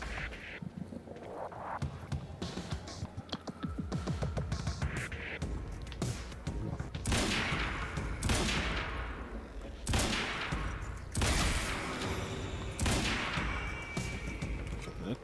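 Carbine fire in the video game Quantum Break comes in rapid bursts of sharp shots mixed with booming impacts and crashes, loud and dense across the action, with repeated volleys and brief lulls between.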